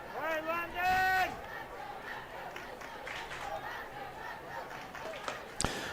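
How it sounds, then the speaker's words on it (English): Fans at a minor league baseball game between the Rocky Mountain Vibes and the Ogden Raptors make a steady murmur of crowd noise, opening with a drawn-out shouted voice and ending with a sharp crack. "We'll give you some crowd noise"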